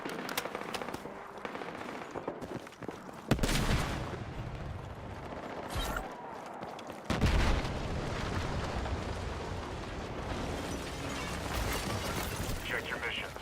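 Gunfire and a frag grenade blast in Battlefield 6: sharp bursts and a couple of loud impacts cut through busy combat noise, with players talking over the action.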